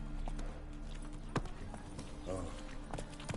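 Horse hooves clop at a steady gallop in the Witcher 3 video game, a continuous rhythmic drumming heard up close beneath talking voices.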